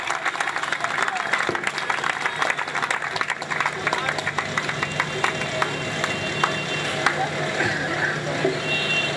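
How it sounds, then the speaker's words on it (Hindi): Crowd applause at an annual function as a speech-competition winner comes on stage, a dense ongoing clatter of many hands with sharp claps standing out, mixed with voices over a loudspeaker. "जोरदार तालियां"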